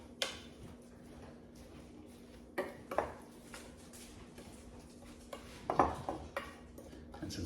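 A utensil stirs bulgogi meat with chopped kiwi in a bowl, making sparse, irregular clinks and taps, a few of them sharper, over a quiet steady hum.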